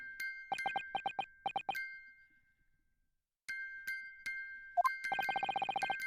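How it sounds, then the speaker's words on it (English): A music box in The Great Ace Attorney plays bright, bell-like chimes, first in quick clustered runs, then silence, then a longer, faster tinkling passage with a sustained ringing tone underneath. "the sound emanating from this music box is not supposed to be music"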